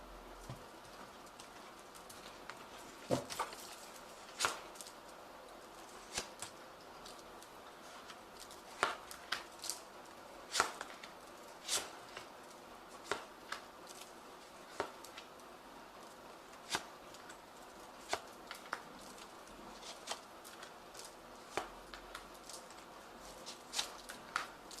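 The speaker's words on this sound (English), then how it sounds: "I have shuffled this deck." A deck of tarot cards is handled and shuffled at a table, producing scattered soft riffles and light taps, quiet and close, with faint bird cooing in the background.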